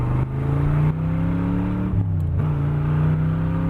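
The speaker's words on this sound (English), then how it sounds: "Now we're gonna do some upshifting." A loud 1966 Chevrolet Corvette engine drones and climbs in pitch, then drops sharply with each upshift, the exhaust booming up close.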